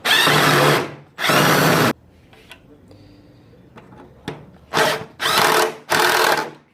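Power drill unscrewing headlight screws on a Ford truck: two loud whirring runs, a pause with small clicks and handling noises, then three more short bursts close to the microphone.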